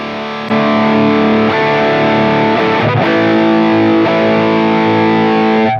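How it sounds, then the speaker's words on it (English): Guitar amplifier in its extreme mode, loud and heavily distorted, playing sustained chords close up for several seconds with no talk. "once you switch it, the amp gets much louder and with infinitely more distortion"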